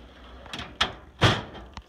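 Several short knocks and slides from the drawers of a nursing supply cart being pulled open and pushed shut, close and fairly loud, with a sharper thud near the end.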